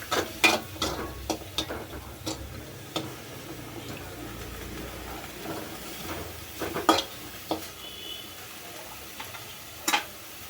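Onions frying in a pan for a cauliflower gobi snack, a soft steady sizzle broken by sharp clicks and scrapes from stirring at irregular intervals.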